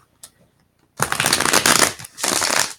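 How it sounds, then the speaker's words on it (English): A tarot deck shuffled and cut up close, two loud rustling bursts of riffled cards with a short break between them, following a faint tap. "let's cut the deck, see what you guys' energy we got going on this week"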